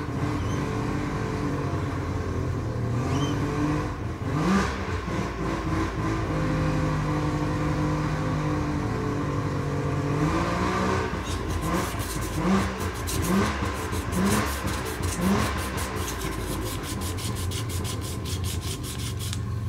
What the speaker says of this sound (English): Everyone seems to like revving the engines around here.